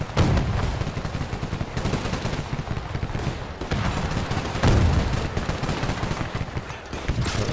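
Sustained machine gun fire from a World War II battle in Men of War 2, continuous dense rattling bursts with occasional heavier booms layered in, loud and close throughout.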